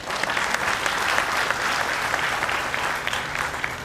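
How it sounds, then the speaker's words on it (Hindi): An audience at a bank officers' union annual general meeting in Pune breaks into dense, sustained applause, many hands clapping steadily and fairly close, without speech over it. "ताली बजाइए।"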